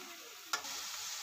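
Minced meat and okra frying in a pan, a soft continuous sizzle interrupted by one short scrape or knock of a stirring spoon, quiet and close.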